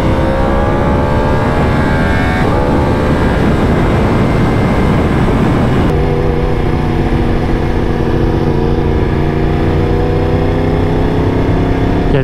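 A Yamaha R1 sport bike roars hard and close through a long, loud acceleration, its engine note climbing steadily, dropping briefly at a gear change and then pulling on again at high revs, with no talk.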